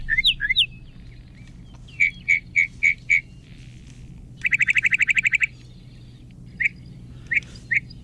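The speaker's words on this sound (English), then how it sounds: "Now here's a bird with a really cool song." A sparrow sings in bursts of sharp chirps, a rapid trill and scattered single notes, bright and clear against a low steady background hum.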